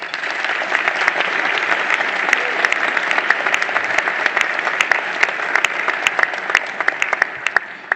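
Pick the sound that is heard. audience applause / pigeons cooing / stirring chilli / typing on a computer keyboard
audience applause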